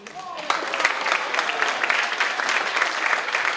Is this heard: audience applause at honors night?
yes